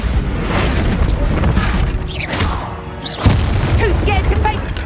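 A Bombarda blast spell in the Hogwarts Legacy video game goes off with a loud booming explosion and crashing debris, mixed with game effects and a voice casting the spell.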